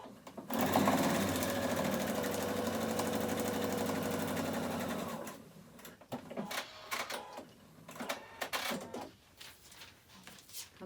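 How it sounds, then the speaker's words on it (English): A sewing machine runs at steady speed for about five seconds, stitching quilt pieces for a New York Beauty quilt, then stops and is followed by quieter clicks and handling sounds of the fabric. "This time I can start sewing all the way off it and sew all the way off the other end."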